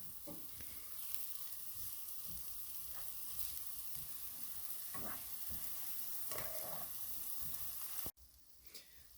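Onions caramelizing in a frying pan for mujaddara, a soft continuous sizzle with scattered crackles and light stirring clicks, fairly quiet, ending with an abrupt drop in level.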